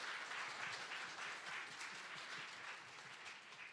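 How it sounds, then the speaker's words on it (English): An esports arena crowd at a PUBG Masters Invitational applauds the winning team DN Freaks, a broad sustained wash of clapping and cheering heard at a distance, fairly faint. "everybody, please give a big round of applause for the DN Freaks"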